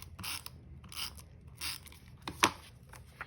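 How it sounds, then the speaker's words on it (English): A repositionable tape runner applies tape to a card, giving repeated soft ratcheting rasps in short bursts, close and fairly quiet, with one sharper click near the end. "you're going to tape down your background using your repositionable tape runner"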